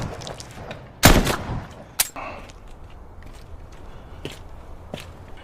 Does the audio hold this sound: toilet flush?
no